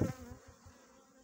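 Honeybees buzz around hives on a sunny February day while colonies are being split. A louder burst comes at the start, then a softer, steady hum continues with no voices.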